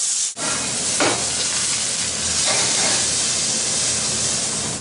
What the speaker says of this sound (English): Gently, carefully, because this is really hot, I'm adding my pork loin.